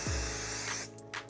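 A short burst of 505 temporary spray adhesive from an aerosol can is misted onto tearaway embroidery stabilizer backing, a steady close hiss lasting about a second before tapering off, with no talking.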